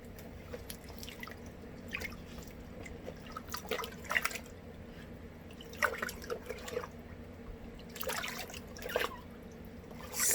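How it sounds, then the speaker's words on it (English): Water dripping from a straw hat soaked in a bucket, scattered drips and small trickles landing irregularly over a quiet background, some louder splashes in clusters, fairly close and with no talking. "I'm going to take my straw hat and I'm going to soak it in a bucket of water."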